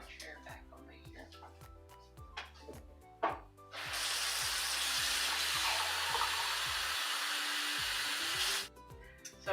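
Water pours steadily into a chicken mushroom rice bake for about five seconds, a sustained rushing splash that stops abruptly, with clinks and kitchen handling sounds before and after.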